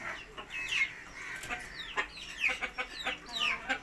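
Desi chickens kept on a veranda cluck and squawk close by in short, repeated bursts, several calls overlapping with no talking, on a rainy day.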